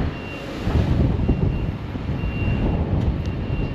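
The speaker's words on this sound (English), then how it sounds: "we've got a lorry going in" A lorry carrying a big boat part reverses with steady, repeating warning beeps over a low engine rumble, heard outdoors at moderate distance with some wind noise.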